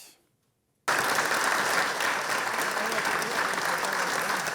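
Dense applause fills the room at a tribute ceremony in the Val-d'Or music conservatory, bursting in abruptly after a brief silence and holding steady and loud to the end.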